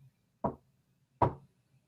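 Two distinct hollow knocks during a ghost investigation in a darkened house, spaced under a second apart, fairly close and isolated against near silence.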